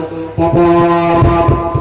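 A voice imitates a train horn during a sermon, giving one loud, sustained droning tone that holds steady for almost two seconds with no other sound around it.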